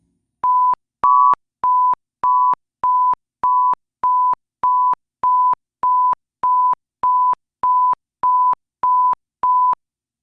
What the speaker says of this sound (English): the higher note starts to disappear. It's masked by the lower note.